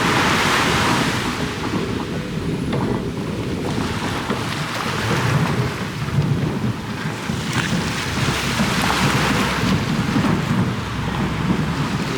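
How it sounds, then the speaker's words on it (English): Ocean waves rolling onto the Santa Barbara, California coast near a pier, a continuous loud surf wash with heavy wind buffeting the microphone throughout, and no voices. "there you got the waves coming in."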